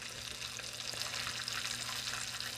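Coconut-battered shrimp frying in hot oil, a dense continuous crackle and bubbling sizzle close up, steady throughout with a low background hum and no speech.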